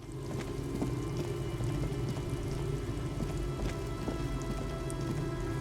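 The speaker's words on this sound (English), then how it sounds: "It's getting late, and it's raining." Steady rain patters in the video game Disco Elysium, an even, dense hiss of drops on surfaces with soft low rumbling underneath, continuous and unvoiced throughout.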